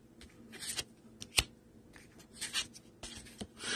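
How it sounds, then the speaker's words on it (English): A tarot card deck is shuffled by hand, soft irregular riffles and slides of the cards with one sharp snap midway, quiet and close. "So now I'm going to shuffle the deck and see how it feels when I shuffle it."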